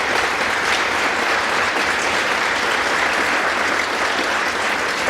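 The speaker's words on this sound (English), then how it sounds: "join me again in one more round of applause in recognition and gratitude to them" Concert audience giving a sustained round of applause, dense steady clapping filling the room at an even level throughout.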